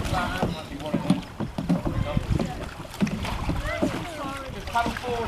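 A canoe is paddled on open water during a school outing, with splashing strokes and wind buffeting the microphone while children and adults talk over it.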